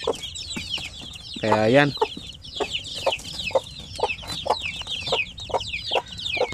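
Basilan native chickens cluck steadily in a short, busy run of calls, with one louder drawn-out call near the start and a brief spoken phrase.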